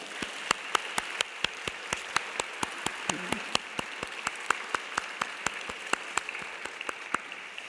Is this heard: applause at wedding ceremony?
yes